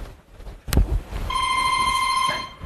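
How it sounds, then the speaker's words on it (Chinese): An electronic telephone ring cuts in during a dinner gathering in a comedy sketch, a single steady tone held for about a second just after a thump, with murmur in the background. "我是来个电话"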